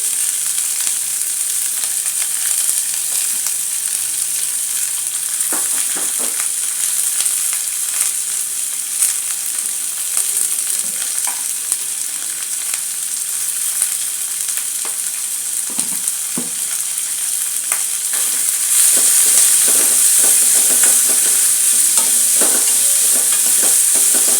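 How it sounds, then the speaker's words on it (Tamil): Onions sauté in a pan with salt for a tomato yogurt kurma, a loud continuous sizzle with scattered spatula scrapes and clinks, growing hotter and brighter toward the end, no voices. "நம்ம கொஞ்சம் வெங்காயத்தை வதக்கிடுவோம்"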